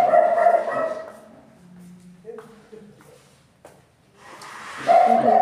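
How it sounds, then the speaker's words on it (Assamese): A dog barks at the beginning and end, loud and close, with a quieter stretch between. "একদম ভুকি আছে।"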